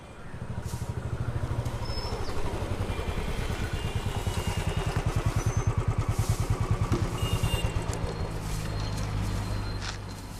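A motorcycle engine runs steadily and close by, a loud low rumble with a rapid pulsing beat that holds for the whole stretch, with no talk over it.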